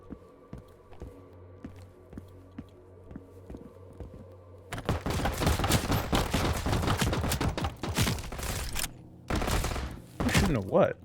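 Gunshots in the game Transience start after a quiet stretch of faint ticking, then break into a dense, fast volley of sharp cracks that stops briefly and resumes near the end.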